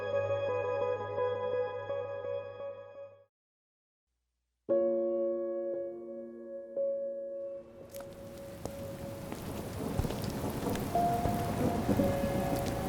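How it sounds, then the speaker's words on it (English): Steady rain pours with heavy rumbling thunder, preceded by tonal music that stops briefly before resuming under the downpour. "I'm late for work and it's raining"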